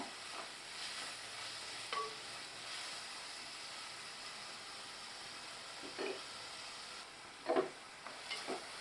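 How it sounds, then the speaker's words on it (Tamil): Onions sizzle gently in hot oil for a surmai fish curry, a steady soft hiss with an occasional faint stir or clink, quiet and close. "இதை நல்லா வதக்கிடலாம்"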